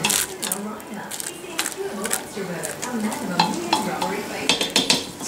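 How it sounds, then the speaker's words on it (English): A spoon stirs barbacoa seasoning through a cooking pot, with steady scraping and clinking of metal against the pot, close and continuous over several seconds. "Give that a bit of a stir."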